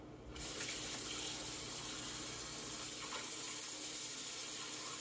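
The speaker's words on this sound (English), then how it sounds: "I'm using warm water to melt the ice that's inside" Warm tap water runs steadily and close over a frozen turkey, a continuous splashing hiss that starts abruptly and holds at an even level with no voices.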